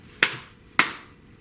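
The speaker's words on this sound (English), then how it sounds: "I want to teach you this body percussion pattern that I love" Two sharp, separate slaps of hands striking the lap in a body percussion pattern, evenly spaced about half a second apart, close and clear in a quiet room.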